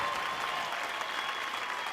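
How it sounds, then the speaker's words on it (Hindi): Steady, dense applause from an audience at a Bhojpuri film award show, a continuous wash of clapping that holds evenly throughout. "अनंजय बाबू के लिए एक जोरदार ताली"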